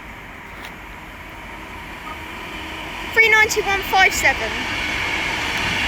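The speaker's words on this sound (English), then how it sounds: "And right there is the Avanti West Coast service from Manchester Piccadilly to London Euston, about to pass by." An Avanti West Coast passenger train from Manchester Piccadilly to London Euston approaches through Stafford station as a steady low rumble that swells slightly, with a brief announcement-like voice and chime partway through.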